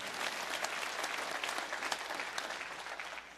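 An audience at the Red Pill Expo claps steadily through a speech, a dense, even wash of many hands lasting a few seconds with no voices over it.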